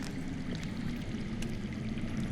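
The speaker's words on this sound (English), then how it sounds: "That's water. I hear water. From underground." Underground water flowing in the Game of Thrones Telltale video game, a steady rushing, pouring wash that stays constant and fairly loud throughout with no break.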